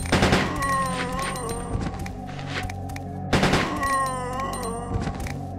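Gunfire from the Resident Evil 2 video game, two loud bursts of several rapid shots each, roughly three seconds apart, with echoing ring-out and game ambience between them.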